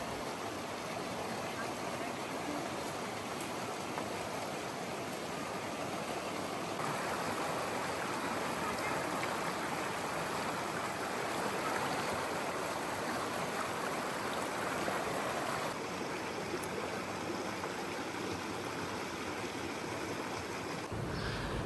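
A river stream flowing steadily outdoors on a breezy day, a continuous broadband rush of water that stays close and fairly loud throughout, with no voices.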